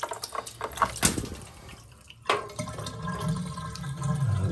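Water draining from the plug of a YETI Tundra 35 cooler into a bathtub, a steady close splashing and trickling stream that builds after some handling clatter.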